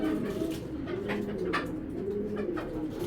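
Racing pigeons cooing close by, soft low rolling coos repeating steadily through the whole stretch with no talk over them.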